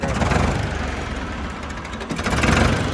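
A used Ford 3600 tractor engine idles steadily up close, a loud, rough diesel rumble with a faint knocking pulse throughout and no voices.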